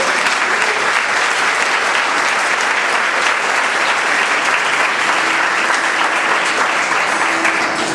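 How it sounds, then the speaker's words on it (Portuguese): A church congregation applauding for the Lord, loud dense clapping sustained evenly from start to finish with faint voices beneath. "dê uma salva de palmas ao Senhor"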